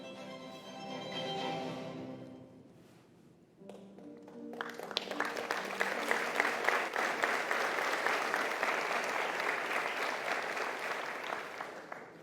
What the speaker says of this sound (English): Thank you all so much for that applause.